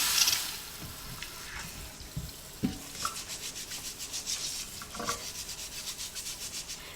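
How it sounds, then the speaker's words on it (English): Russet potatoes are scrubbed clean under running water with rhythmic, close, rasping strokes, the brushing settling into a steady back-and-forth beat against a wet background. "We're just going to scrub these off and get them nice and clean."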